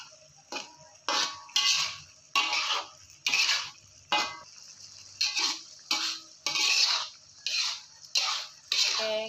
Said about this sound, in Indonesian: tetap kita oseng-oseng atau kita aduk-aduk seperti ini ya teman-teman ya